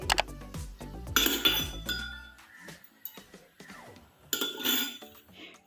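A pan set on a stove for raw banana ginger curry, with several metallic clanks and clinks of cookware and utensils, near and fairly loud, separated by short quiet gaps.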